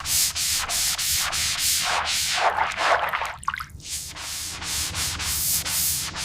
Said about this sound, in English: sanding the complex curve